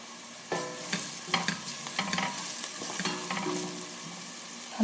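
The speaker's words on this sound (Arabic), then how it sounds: "هنقلب شوية كده لغاية ما نحس ان البصل والفلفل دبلوا شوية" Sliced onions and peppers sizzle in a frying pan for spaghetti, with a steady hiss broken by frequent scraping and clinking strokes of a spoon as they are stirred.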